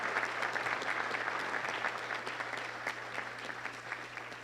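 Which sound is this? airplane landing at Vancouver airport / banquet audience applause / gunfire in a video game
banquet audience applause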